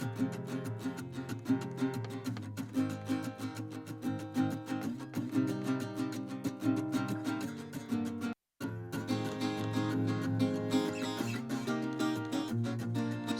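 Duplicated vocal sent through a fully wet eighth-note echo, repeats bouncing rhythmically inside a dense song mix, with a brief dropout near the middle before the full mix resumes.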